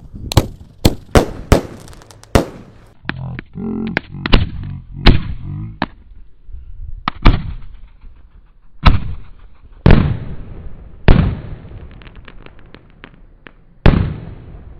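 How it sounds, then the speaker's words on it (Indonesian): Four Basoka Roman candle fireworks fire together outdoors, giving a rapid series of loud, sharp bangs and whooshing bursts with short gaps, some overlapping, through the whole stretch. "menyalakan mercon Basoka Roman candle 4 sekaligus"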